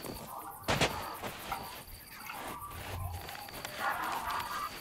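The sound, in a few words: cannon firing in a video game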